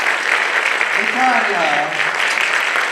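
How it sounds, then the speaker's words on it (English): Applause rings out for three contestants at a tombola bingo event, a steady wash of clapping lasting the whole moment while a voice speaks over it. "we're gonna just do the round of applause for the three contenders"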